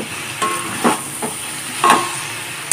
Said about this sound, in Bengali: আরো একটু ভালো করে সয়াবিনটাকে কষিয়ে নিয়ে